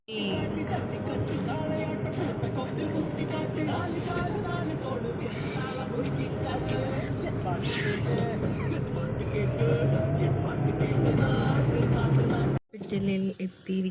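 Auto rickshaw ride, a steady close engine drone and road rumble lasting several seconds with voices talking over it, then cutting out abruptly near the end.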